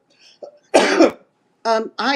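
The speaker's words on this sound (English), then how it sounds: "I got a cough." A single harsh cough, loud and close, followed by a person starting to speak.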